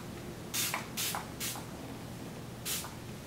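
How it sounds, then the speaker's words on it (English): Eden Body Works kids detangling spray spritzed onto a section of hair: four short, close hissing pumps, three in quick succession and one after a pause, with no talking. "You want to make sure you spray that section really well."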